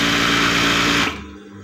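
A sewing machine runs steadily at close range with a loud, continuous mechanical whir after its thread tension is tightened, then cuts off abruptly near the end, leaving only low room noise.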